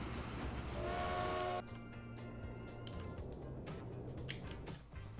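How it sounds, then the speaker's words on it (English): Long freight train rolling along in the transport simulation game Transport Fever, a steady rumbling drone with a high whistle-like tone early on, then continuous rolling noise with small clanks, no talk. "That's a long train."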